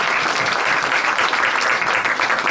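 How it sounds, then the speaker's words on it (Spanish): Loud, dense audience applause on a talk show as guests are sent off, a continuous wash of clapping close by without a break. "Vamos a despedir con un aplauso"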